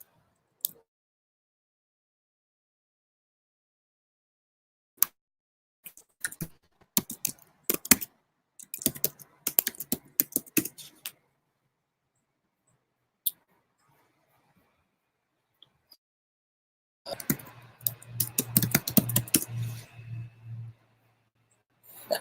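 Someone types on a computer keyboard in short, quick bursts separated by silences while searching an eBay listing for comics; a final flurry of keystrokes is the busiest.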